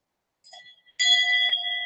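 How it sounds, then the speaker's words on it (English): A metal bell rings once softly and then strikes again louder, a bright, clear tone with sustained ringing partials that linger and slowly fade, heard close and alone. "I got this bell."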